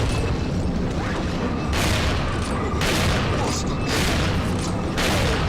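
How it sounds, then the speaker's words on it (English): Repeated gunfire from Resident Evil 4's mines area, loud broadband bursts arriving in a steady rhythm about once per second over constant noisy game ambience, with a voice talking underneath. "Let's shoot the lever right away"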